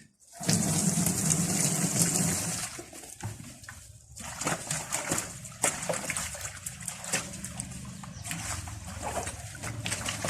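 Water splashing and running while a worm bin is rinsed out to stop it stinking, a steady close wash of liquid with uneven bursts and splashes throughout and no talk.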